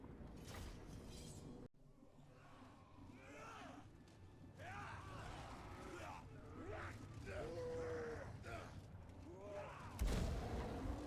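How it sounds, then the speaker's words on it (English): A laser cannon shot strikes a monstrous dog in a Total War: Warhammer 2 battle, amid dense combat clatter, cracks and creature groans, ending with a loud sudden blast near the end. "So he's taken a laser cannon shot to the face."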